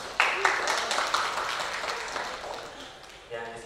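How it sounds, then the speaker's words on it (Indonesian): Audience applause at a school parents' meeting, sharp claps at first that fade into a softer patter, with a voice speaking over the end. "Boleh tepuk tangan lagi buat Al-Azhar."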